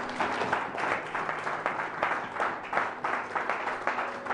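A church congregation applauding loudly at a French-language worship service, dense sustained clapping from many hands with rhythmic surges throughout, close and full, without speech.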